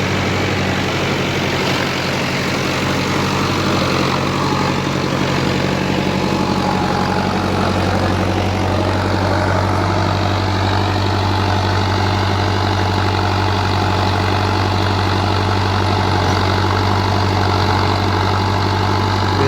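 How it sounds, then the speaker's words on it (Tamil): A tractor runs a rotavator in farm fields, its engine droning loud and steady at close range for the whole stretch, with no voices. "ரொட்டேட்டர்லாம் ஓடுறதுக்கு எந்த பிரச்சனையும் இல்லை அது பாட்டு அப்படியே அசாங்காமல் வருது"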